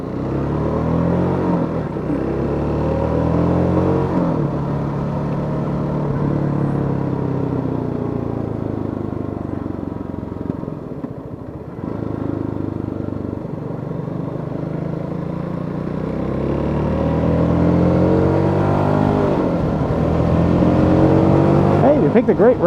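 A 2017 Hyosung GD250R motorcycle rides along a twisty route, its engine droning steadily and close throughout with gentle rises and falls in pitch as it works through turns, with some talk over it.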